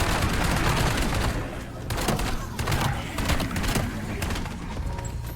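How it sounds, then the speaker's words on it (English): An SG-12 shotgun in Black Ops 7 Zombies fires a rapid string of loud, punchy blasts at zombies, shot after shot in quick succession with brief gaps, under occasional talk. "This shotgun kills zombies way faster than the LGM1 does"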